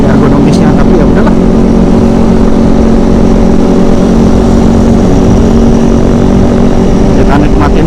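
A Kawasaki ZX25RR motorcycle rides through winding mountain roads, its engine droning steadily and loudly beneath heavy wind rush throughout, with a few brief higher bursts early on.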